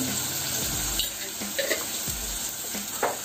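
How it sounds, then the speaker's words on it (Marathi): Chopped onion and tomato sauté in a hot pan, a steady close sizzle broken by several scraping stirs of a spoon against the metal. "कांदा टोमॅटो परतून घेते."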